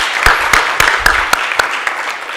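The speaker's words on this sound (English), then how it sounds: "Can we please give her another round of applause?" A short burst of applause at a university talk, with a few loud, distinct claps standing out over a crowd's steady clapping.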